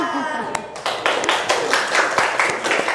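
Rhythmic tepuk cinta clapping game, sharp close hand claps in a quick patterned sequence, with a voice leading the chant at the start.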